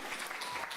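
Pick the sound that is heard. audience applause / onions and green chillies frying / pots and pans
audience applause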